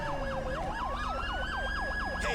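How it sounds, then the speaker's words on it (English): Wailing ambulance siren from a police video game mod, a fast wail-yelp sweep cycling steadily and loudly, with a rising tone beneath it and no talking. "Where's that ambulance at? I called for it. I heard it tell me it was coming."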